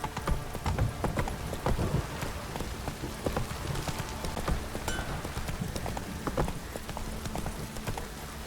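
Hooves of Roach, a horse in The Witcher 3 video game, clip-clop at a steady gallop throughout, close and continuous over a rain-like patter of ambient game sound.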